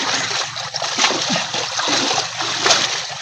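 Water splashing and sloshing in a village setting, a steady run of close wet splatters with a few louder splashes, with a faint voice in the background.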